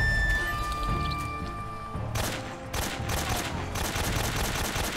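Video game gunfire in Metal Gear Solid 3: Snake Eater, during a boss fight against The Fear: rapid bursts of shots crackling in close succession, loud and harsh, broken by brief pauses over an ambient game backdrop.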